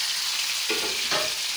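Okra fried golden brown in oil sizzles steadily as chopped onions go into the pan, a continuous close hiss with two brief surges of crackle.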